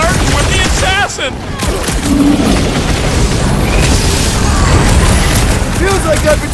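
Gunfire and booming blasts from the Guardians of the Galaxy video game, a loud dense barrage of shots and explosions with game characters talking over the fighting.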